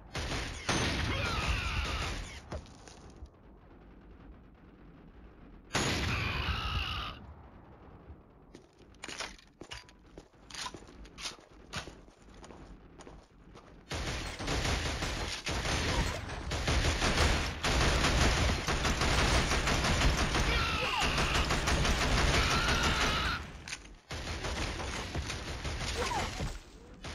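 Gunfire and combat noise in the video game Killzone HD, a dense, loud barrage that cuts in and out across a long stretch, with sharp bangs and crunching impacts layered over heavy background rumble.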